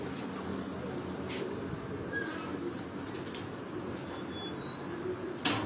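Pigeons on a rooftop near Rawat, Pakistan, give soft, low cooing against quiet outdoor ambience, with a few faint higher chirps and a brief louder rustle near the end.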